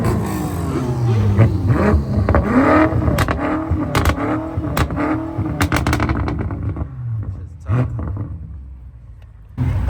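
A Porsche GT3 sports car at a car meet revs hard several times, the engine rising and falling in loud close roars before settling and fading, with a final burst at the end.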